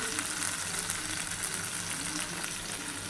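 Onions frying until browned, with ginger-garlic paste just added to the pan, giving a steady, close, bright sizzle with a constant hissing crackle and no talk.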